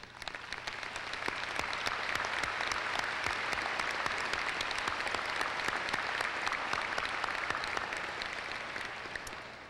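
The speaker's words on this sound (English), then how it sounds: "I want to ask the family members of these honorees to stand so we can applaud you as well." A commencement arena audience applauds the honorees' family members, a dense, even wash of clapping from a large crowd that holds steady for several seconds and eases off slightly at the end.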